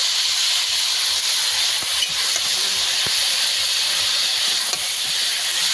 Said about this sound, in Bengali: এইটাকে কিছুক্ষণ ভেজে নিয়েছি, ভেজে নেওয়ার পরে আদা বাটা দিয়ে দেবো।